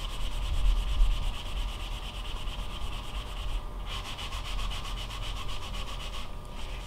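Wet distressing of painted furniture, a cloth or pad rubbing over the painted surface in a continuous close scrubbing hiss that stays steady throughout.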